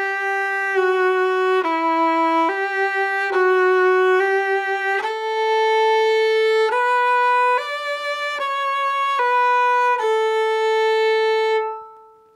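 Bowed strings play a slow beginner slur exercise, a steady stepwise run of sustained notes gliding smoothly one into the next for about twelve seconds, close and clear with no talking, ending as the last note fades.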